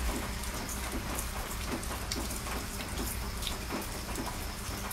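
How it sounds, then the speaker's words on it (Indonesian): Steady rain pouring down in Sungai Petani, Malaysia, a dense continuous hiss of drops with occasional louder patters on a hard surface, no voices. "Sungai Petani hujan."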